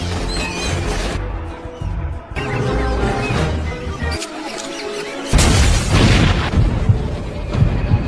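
Explosions from the 2008 action film Wanted as rigged rats blow up inside a textile factory: loud, dense booms and crashing bursts with a broadband rumble, several blasts in succession over a busy film soundtrack.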